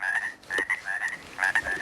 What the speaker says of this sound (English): this pond is filled with these chorus tree frogs,